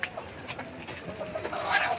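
A chicken handled during a weekly health check gives a few soft, short clucks and coos close by, over a quiet room with a faint voice in the background.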